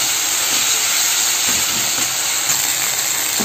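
Mushroom sabji ingredients frying in a pan, a loud, constant hiss-like sizzle that runs close and unbroken, with no one speaking.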